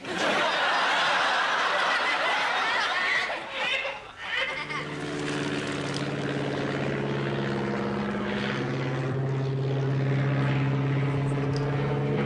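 A propeller airplane passes overhead above an open field. A loud, rushing roar gives way to a steady, droning engine hum that lingers, and faint voices and brief chuckles are heard along with it.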